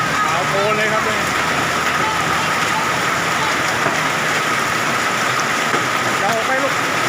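Heavy rain and large hailstones pound down during a hailstorm at Kham Cha-i, Mukdahan, a dense, continuous roar of drumming and clattering that stays loud throughout, with someone talking over it.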